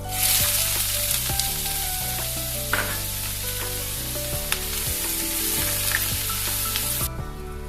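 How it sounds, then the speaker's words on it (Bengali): Two medium onions hit three tablespoons of hot white oil and sizzle steadily, a loud, even frying hiss lasting the whole stretch over faint background music. "আমি তেলের মধ্যে দিয়ে দিচ্ছি 2টো মিডিয়াম সাইজের পেঁয়াজ"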